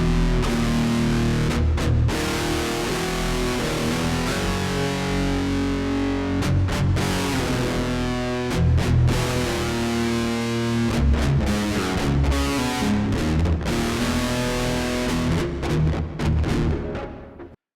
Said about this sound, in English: Let's turn off the distortion to see what that sounds like.